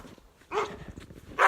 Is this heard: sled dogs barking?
yes